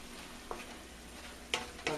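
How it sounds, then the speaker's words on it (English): Apples and pork-chop stuffing simmering and bubbling in a pan, a steady soft sizzle with a few sharper clinks of a spoon or spatula against the pan near the end. "you're just going to simmer everything until the apples have softened"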